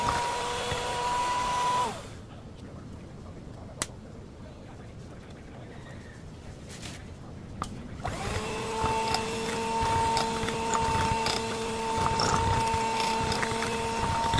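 An electric mixer beats eggs into red velvet cake batter with a steady, close motor whir. It cuts out for several seconds, then starts again and runs on.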